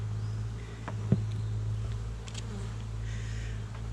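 Honeybees in a nucleus colony hum steadily at the hive during a beekeeper's inspection. The low buzz runs unbroken and close, with one brief knock partway through and no voices.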